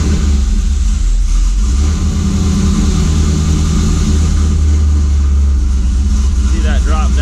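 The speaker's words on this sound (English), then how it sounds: "So once we actually start the car," A 5.3 LS V8 with a full muffler delete and straight 3-inch exhaust starts and settles into a loud, steady, rumbling idle that fills the whole stretch, with a voice talking over it.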